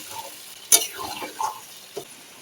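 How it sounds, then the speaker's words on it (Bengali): Spices are stirred into fish in a pan for a curry, a utensil scraping and clinking against the metal in a few sharp, close strokes over a faint sizzle. "মশলা আর মাছটা ভালো করে আমি মিক্স করে নেব, মশলাগুলো মাছের মধ্যে লেগে যায়।"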